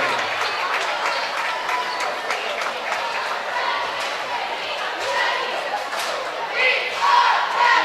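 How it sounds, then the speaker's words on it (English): Crowd applause at a high school homecoming game, a dense spread of clapping and cheering in a stadium, with people talking over it and some louder shouts near the end. "Now let's give a round of applause"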